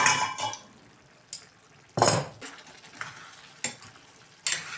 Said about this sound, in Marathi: झाकण काढून पाहूया.